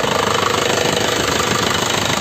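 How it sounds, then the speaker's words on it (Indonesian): A diesel engine of an Isuzu Panther Grand Touring idles steadily up close, a dense even rumble with a faint knocking texture and no talk. "suaranya juga masih kerang, enak ya, khas Panther"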